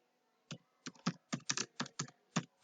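Close, quiet keystrokes on a computer keyboard while HTML code is typed: about a dozen sharp, separate clicks in an uneven typing rhythm, with no voices.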